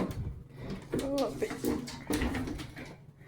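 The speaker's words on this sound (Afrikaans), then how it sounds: "En dis soos 2 konsertina deure wat toemaak." Two folding concertina doors on a laundry closet swing shut in a home, giving a few close, soft knocks and a sliding rattle while a voice is heard faintly in the background.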